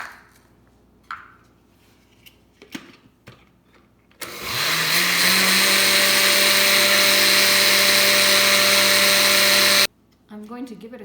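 A blender whirs loudly and steadily for about six seconds, pureeing the ingredients for a Thai-inspired zoodle salad dressing, starting abruptly and cutting off sharply, with quiet kitchen handling before and after.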